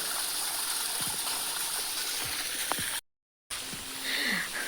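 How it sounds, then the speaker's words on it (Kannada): Stream water flows steadily in a garden plantation, a continuous close rushing and gurgling that cuts out briefly and then resumes. "ಇಲ್ಲಿ ನೀರು ಬರೋದು ಕಾಣ್ತಾ ಇರಬಹುದು"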